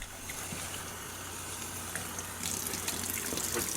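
Running water pours steadily over a coticule whetstone being rinsed, a constant close gush that grows louder and brighter for the last second or so.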